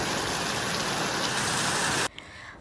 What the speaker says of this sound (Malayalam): അപ്പോൾ ഇവിടെ ഭയങ്കര മഴയാണ്